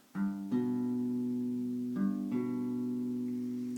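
Two guitar notes plucked one after the other and ringing together, then the pair is played again; close, clean and sustained.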